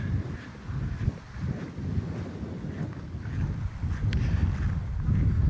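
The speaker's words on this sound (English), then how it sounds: "It's a little bit windy now, but hopefully I'm shielding the mic well enough." Steady wind buffeting the microphone with a low rumble, and faint surf washing in at low tide on a resort beach; no one speaks.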